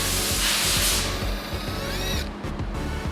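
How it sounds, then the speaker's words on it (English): A power drill with a small bit bores a pilot hole during a 1016 Industries widebody kit install on a 2023 Lamborghini Urus Performante. A steady close-up motor whine rises and falls in pitch over a hissing, grinding background. "usually I start with a small drill bit right in the middle and then work my way"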